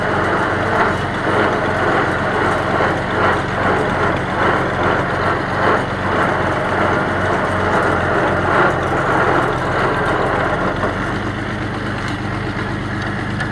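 A Hart Parr 70 tractor engine runs steadily close by, producing a continuous loud, rough drone that stays even throughout without pauses.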